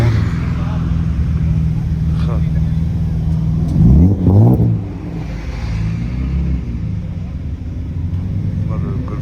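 A Volkswagen Golf 3 VR6 turbo at a car meet at Wörthersee, its engine rumbling steadily with a brief rise in revs midway, heard amid crowd chatter and background noise.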